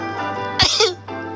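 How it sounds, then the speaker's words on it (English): A single quiet, restrained sneeze bursts out briefly and close, stifled rather than let loose, with faint steady background hum around it. "I definitely sneeze differently at home to how I sneezed in school."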